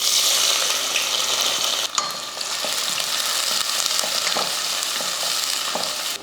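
Sliced large onions fry in hot oil in a pan for veg biryani, a loud steady sizzle running throughout with occasional stirring scrapes and knocks.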